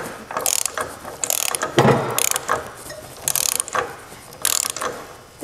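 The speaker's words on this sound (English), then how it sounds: "Let's get this nut off the top." A ratchet wrench loosens a nut at the top of a wobbly steering assembly, giving about five separate bursts of quick metallic clicking, close and fairly loud, with short pauses between strokes.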